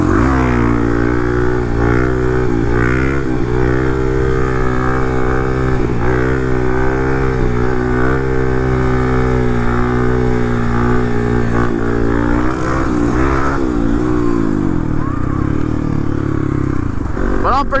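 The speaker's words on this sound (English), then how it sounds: "We are riding right now to go to some new trails." A Kawasaki KLX 450 dirt bike cruising on a paved road drones loud and steady throughout, with engine pitch rising and falling as the rider shifts and eases the throttle.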